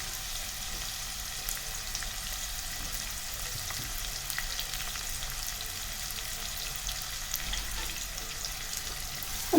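Onion sliced lengthwise sautéing in hot oil for a vegetable dum biryani: a soft, even frying hiss holds steady throughout, with faint light movement and no voices.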